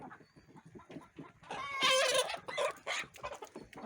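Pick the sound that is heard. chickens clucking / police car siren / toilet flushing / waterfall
chickens clucking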